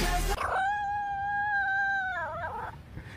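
A dog's drawn-out, steady howl rings clearly for about a second and a half, wavering at the end as it trails off, after a short burst of noise at the start.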